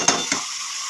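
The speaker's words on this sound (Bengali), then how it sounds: "এবার এটাকে কষিয়ে নিতে হবে সুন্দর করে।" Mutton sautéing with turmeric in a wok, two quick stirring scrapes followed by a steady soft sizzle, close and brief.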